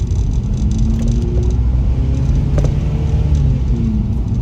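A Mini Cooper GP engine hums steadily from inside the cabin while driving, a low continuous rumble with a faint rattle, no voices.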